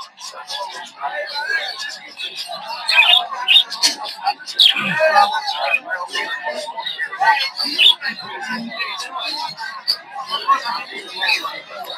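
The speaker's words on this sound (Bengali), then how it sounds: "এইদিকে হচ্ছে বাজিকার পাখি" Dense, overlapping chirps and tweets from many budgerigars fill the air continuously at a bird and pigeon market in Narsingdi, Bangladesh, with people talking faintly in the background of a busy, crowded space.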